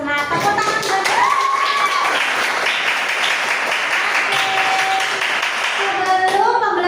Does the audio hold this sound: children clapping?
yes